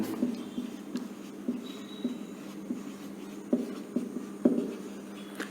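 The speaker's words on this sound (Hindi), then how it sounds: "तो इसके लिए मैं आपको यहाँ पर लाइन ड्रॉ करता हूँ" A pen drawing lines on a board during a technical drawing lesson on projection methods makes faint, repeated scratchy strokes at a steady pace in a quiet room.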